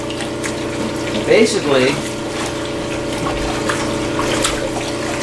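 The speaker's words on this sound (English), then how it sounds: "we brought the print over to the final wash" Water runs steadily over a gum bichromate print in its final wash, a constant close rushing flow with a faint mechanical hum beneath, while a person talks over it.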